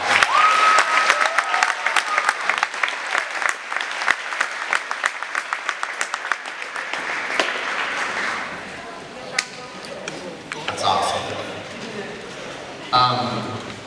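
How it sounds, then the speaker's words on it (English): An audience at a high school award ceremony gives a round of applause, dense clapping that thins into scattered claps and fades out, with a few voices talking over the tail end. "We give you a round of applause."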